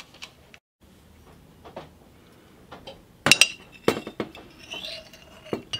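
A tablespoon of solution goes into alcohol in a glass, heard as sparse soft clicks followed by a few sharp, close clinks of a spoon against glass and a brief ringing scrape.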